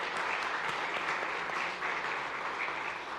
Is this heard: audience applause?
yes